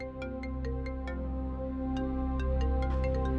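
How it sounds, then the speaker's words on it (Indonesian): A mobile phone ringtone rings in a room in an Indonesian drama episode, a steady electronic melody with repeating clicky notes, moderately quiet and with no talking. "ini handphone kamu bunyi terus"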